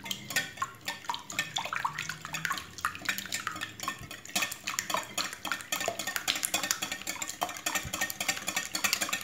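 Coconut milk, coconut oil and eggs stirred together for a gluten-free, lactose-free coconut cake batter, giving a steady, busy clatter and scraping of utensil against bowl, close and continuous with no voices.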